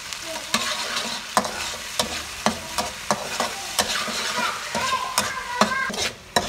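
Pork with holy basil is stir-fried in a pan, with a continuous close sizzle broken by regular sharp scrapes and clacks of the utensil, and no one talking.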